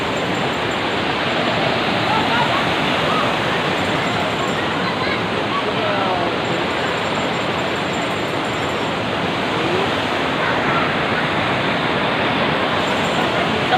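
Flowing water rushes as a dense, continuous roar, steady and loud throughout without pause, like a stream or small waterfall heard close by.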